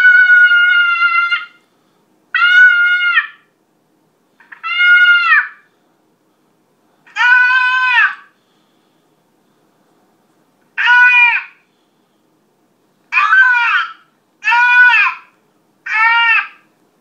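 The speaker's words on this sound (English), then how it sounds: "Fawn if you're fawn distress." Primos Turbo Dogg electronic predator call playing a fawn distress recording: eight loud, plaintive bleating cries at irregular intervals, each a second or so long, separated by silence.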